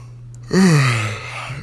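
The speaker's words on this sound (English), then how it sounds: "So I keep yawning." A single drawn-out human yawn, loud and close, rising sharply then sliding down in pitch over about a second, with no talk.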